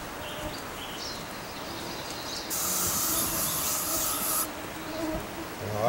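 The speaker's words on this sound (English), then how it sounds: "I almost never use this bug spray." An aerosol can of bug spray hisses out in one continuous, fairly loud burst of about two seconds outdoors, against a faint background of buzzing flies.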